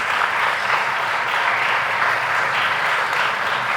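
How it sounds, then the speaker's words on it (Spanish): Steady, full applause from an audience at a screening event for a film about women's courage and resilience, a loud, unbroken roar of many hands clapping that runs at an even level throughout, with no voices over it. "Un aplauso, por favor, para Paula y para Neris."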